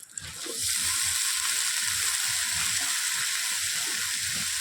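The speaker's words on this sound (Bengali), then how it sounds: "এবার দিয়ে দিচ্ছি খোসা সহ টুকরো করে কেটে রাখা আলু" Potato pieces with their skins on hit a hot pan with ginger and green chilli, setting off a loud, steady sizzle that swells quickly and holds, with soft stirring scrapes underneath.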